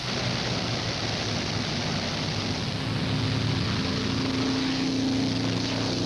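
A WWII P-51 Mustang propeller fighter plane taking off, heard as a loud, steady engine and propeller drone that holds constant throughout with no voices.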